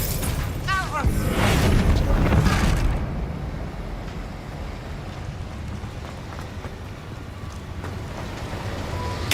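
Spell blasts in Hogwarts Legacy combat: a loud, dense burst of booming crashes and magical effects over about three seconds, then a steady rumbling wash of game noise, with a voice calling out alongside.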